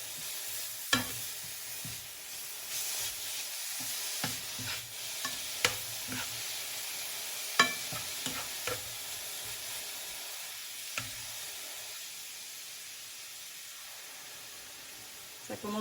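Grated carrot and zucchini fry in a pan, a soft steady sizzle with occasional sharp scrapes and taps as a utensil stirs them. The sound is fairly quiet and close, and no one speaks.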